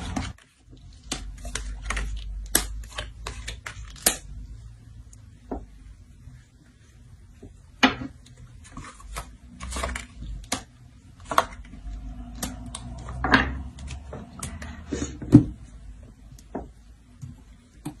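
Tarot cards being shuffled by hand, a run of soft, irregular clicks and flicks, close and fairly quiet, with pauses between bursts and no talking.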